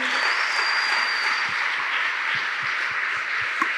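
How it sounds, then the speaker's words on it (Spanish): Dense crowd applause at a church service, steady and sustained throughout, with a low rhythmic thumping underneath. "Dale ese aplauso a Jesús"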